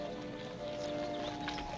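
Horse hooves clip-clop steadily on a hard surface, close by, with faint background hum and no talking.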